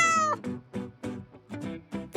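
A domestic cat meows repeatedly, a run of about seven close, clear mews in quick succession after a brief bright tone at the start, with no other sound around it.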